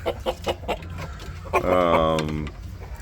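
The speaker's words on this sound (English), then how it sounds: "We got our friend the fighting cock. He's actually a really cool bird." A fighting cock in a provincial backyard lets out a drawn-out, throaty clucking call near the mic, following a stretch of someone talking over quieter background clucks.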